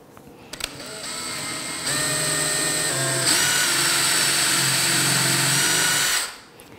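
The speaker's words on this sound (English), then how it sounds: "the drill bit that has the brad point tip" A power drill with a brad point bit whines steadily as it bores through wood, loud and close, its pitch rising as the bit bites, then winding down at the end.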